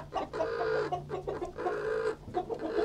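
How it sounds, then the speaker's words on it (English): Farm chickens cluck and grumble in a steady, close, overlapping chorus of low throaty calls, with no one speaking. "Ah, growling chickens."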